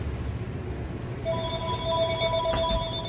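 A telephone rings with a steady electronic bell tone that starts partway through, heard over a constant low rumble of background noise, with no voices.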